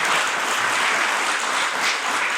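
A live talk-show audience breaks into sustained applause, a dense, even wash of many hands clapping together with no voices rising above it.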